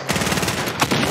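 Rapid automatic gunfire in a multiplayer shooter video game, a dense, continuous burst of shots with a louder crack near the end, close and loud with no talk over it.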